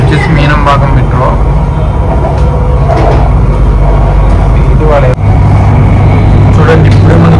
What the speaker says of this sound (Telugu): ఈ మెట్రో పేరు వచ్చేసి మీనంబాగం మెట్రో.